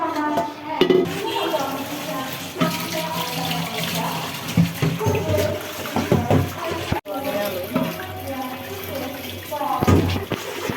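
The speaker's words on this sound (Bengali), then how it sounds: "এখন সকালে যা নাস্তা খাওয়ার পর ছিল এগুলো আমি ধুয়ে নিচ্ছি।" Breakfast dishes are washed under a running kitchen tap, with steady water flow and frequent clinks and clatters of plates and utensils. The sound is close and continuous, with some faint voice-like sound in the background.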